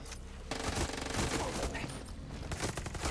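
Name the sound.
gunfire in the video game Far Cry 6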